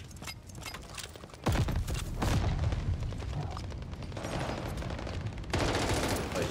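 Rapid, dense bursts of automatic rifle fire from the AS-44 in the Call of Duty Vanguard shooter, loud and close, with sustained volleys and sharp onsets layered over constant in-game combat noise.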